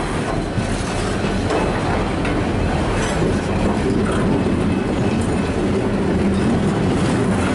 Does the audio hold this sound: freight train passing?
yes